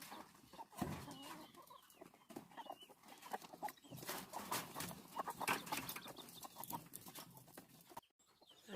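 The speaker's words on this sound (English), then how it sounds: "Time to let out the chickens for the morning." Chickens cluck and squawk in a farm coop in the morning, with busy overlapping calls and bursts of wing flapping, fairly close and moderately loud.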